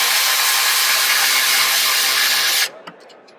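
M12 FUEL Insider power ratchet runs steadily at close range for under three seconds while tightening a bolt, then stops abruptly, leaving a few faint clicks.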